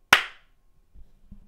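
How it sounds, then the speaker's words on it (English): A single sharp hand clap for camera sync rings out near the start, loud and close with a short decaying tail, followed by faint low rustling and thumps. "Going to do clap sync"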